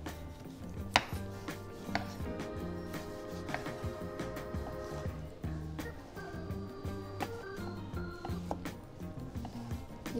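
Rapid, rhythmic knife strokes dicing tomato and onion on a cutting board, close and crisp, over faint background music.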